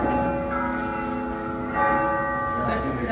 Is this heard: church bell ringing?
yes